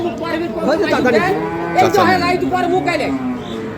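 Improved-breed dairy cows with their calves moo loudly at a village livestock market, close and drawn out, with people chattering around them.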